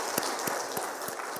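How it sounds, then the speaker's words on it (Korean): A church congregation at a Wednesday evening worship service claps in unison, giving a brief run of evenly spaced, rhythmic claps at moderate loudness. "감사 영광의 박수하겠습니다."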